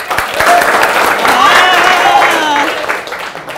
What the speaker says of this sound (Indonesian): Adik-adikku, tepuk tangan dulu dong.